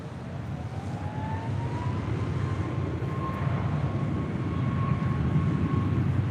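Airliner roaring on its takeoff run at LAX, a loud steady broadband rumble with a rising whine sweeping through it, continuous throughout.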